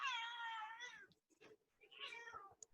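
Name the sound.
cat meowing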